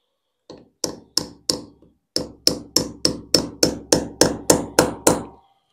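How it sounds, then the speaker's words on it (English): A hard metal punch struck repeatedly with a hammer into masonry blockwork to mark a drilling point: about fourteen sharp, loud blows at a steady, quickening rhythm, with a short pause early on. "if we use a punch, this will create an indentation in the block work."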